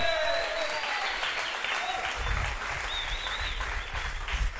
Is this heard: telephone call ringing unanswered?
no